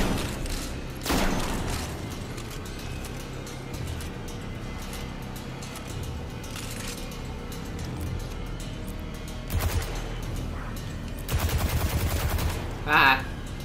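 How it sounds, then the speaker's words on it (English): Shotgun blasts in Destiny 2, a few heavy booming shots spaced apart amid dense game noise and background ambience, with louder bursts toward the end. "Let me try this shotgun out."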